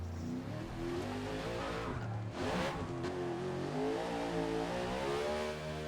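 A NASCAR stock car in Forza Motorsport at the Indianapolis road course drones with a buzzing engine that rises and falls in pitch, plus a brief tire squeal midway, steady and fairly close.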